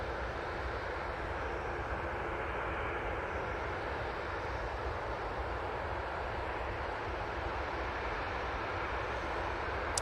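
Aer Lingus airliner in from Dublin at Manchester Airport, a faint, steady distant engine rumble with no voices.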